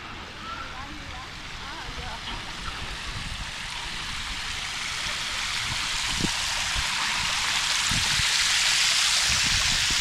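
Shower water runs hard and steady at an outdoor swimming pool, a broad, dense hiss that builds slowly in loudness over ten seconds, with a few faint bumps beneath and no voices.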